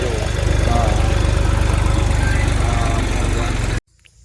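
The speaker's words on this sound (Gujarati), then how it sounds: "નવું ટ્રેક્ટર આવી ગયું" A new tractor's engine runs steadily at close range with a loud, even low throb for almost four seconds, then cuts off abruptly into near silence.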